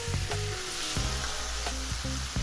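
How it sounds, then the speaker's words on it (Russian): Breaded fish fries in a pan over high heat, with a loud, steady close-up sizzle peppered with crackles and pops throughout and no talking. "Рыбу нужно жарить обязательно на достаточно сильном огне."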